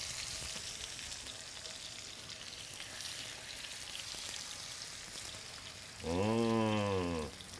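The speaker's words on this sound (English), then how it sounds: "salmon sounds when you put it in a hot skillet like that" Salmon fillets sizzle skin side up in a hot skillet, a steady soft crackling hiss running throughout, with a short tonal hum rising near the end.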